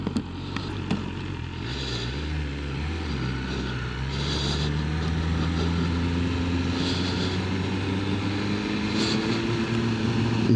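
A 2025 BMW M1000R Competition motorcycle engine pulls away in first gear, rising from a low idle into a smooth, steady climbing drone, close and continuous with wind noise.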